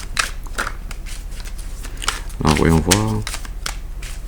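Tarot cards being shuffled by hand for a reading, with quick papery riffles and light clicks running steadily at close range while someone speaks briefly over them.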